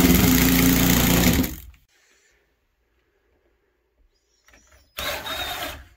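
A power drill drives screws into a water access panel. A loud motor whine runs for about a second and a half, then cuts out to near silence, and a second burst comes at the end.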